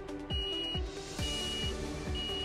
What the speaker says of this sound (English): Beeping goes off